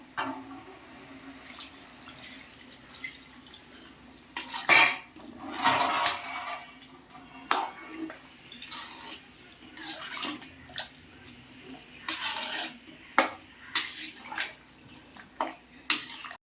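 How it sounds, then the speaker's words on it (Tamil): Water splashes and trickles into a metal cooking pot of chicken gravy with drumsticks, in uneven bursts, with occasional clinks of the vessel, close and moderately loud. "இதுக்கு தேவையான தண்ணியை ஊற்றிப்போம்."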